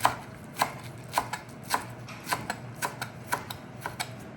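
Green onions are sliced with a knife, producing a steady run of crisp chopping taps roughly every half second, close and fairly quiet, with no voices.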